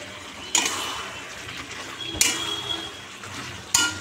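Chicken kosha being stirred and sautéed in a pan, with three sharp clinks of a utensil against the pan over a steady low sizzle, no talking.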